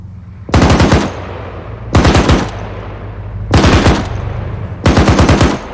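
Automatic gunfire from a gun in the video game Arma III, four loud close bursts of rapid shots, each followed by a lingering echoing tail.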